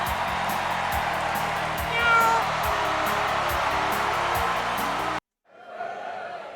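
A person imitating a cat's meow over a constant crowd-like background with a rhythmic low thumping beat; the loud bed cuts off abruptly near the end, leaving a quieter, fainter stretch.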